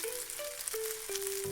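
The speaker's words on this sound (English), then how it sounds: "Continue stir-frying the mixture until it's fully cooked." Spicy minced pork is stir-fried in a pan, a steady close sizzle with light stirring scrapes running throughout, behind faint tonal hum.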